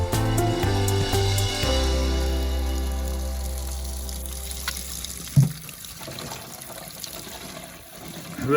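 Water runs from a local spring tap into a VW T3 camper's new fresh water tank, a steady resonant rushing and gurgling flow that slowly fades, with a knock partway through.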